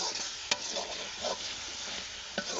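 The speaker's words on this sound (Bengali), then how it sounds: "মশলাটা কষানো হোক।" Spice paste of chilli powder, coriander powder and salt stirred and sautéed in a pan, a steady soft sizzle with scraping stirs, including two sharp clinks of the spoon against the pan.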